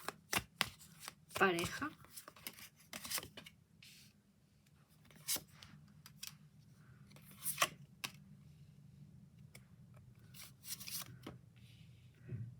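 Tarot cards are shuffled in quick papery bursts, riffles and slides spread across the stretch, close and crisp, with someone speaking softly in Spanish between them.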